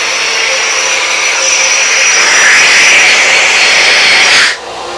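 A Fuji paint sprayer turbine roars loudly and steadily at close range with a broad whining hiss that swells slightly, then drops sharply near the end as it is switched down.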